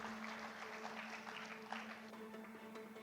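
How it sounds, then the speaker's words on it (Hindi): Faint, distant audience applause at a talk event, a soft continuous patter of many hands under a steady low hum. "जोरदार जोरदार ये तालियां बहुत कम थी सुमित के एंडेवर्स के लिए"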